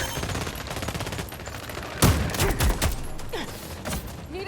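Gunfire in the sci-fi shooter video game Expanse: Osiris Reborn comes as rapid automatic bursts and sharper single shots, loud and close, with a heavy blast midway and scattered shots trailing off.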